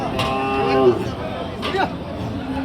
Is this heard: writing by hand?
no